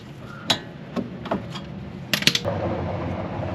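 A ratchet tightens the steering jam nut on a 2WD Toyota RAV4 during a power steering rack and pinion replacement, giving a few sharp, separate clicks spaced apart, then a quick cluster of clicks before a soft rustle.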